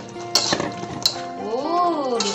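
Jengkol tips into a pan of Betawi-style balado spice paste with a couple of sharp clinks against the metal, followed by a soft scraping stir, close and moderately loud.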